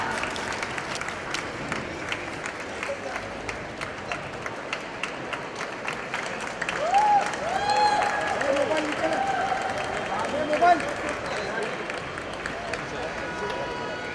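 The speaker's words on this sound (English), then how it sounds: "A round of applause when Life Turns Turtle." An audience applauds at the launch of the book 'When Life Turns Turtle', with scattered hand claps pattering throughout while voices talk over them, the applause swelling briefly midway.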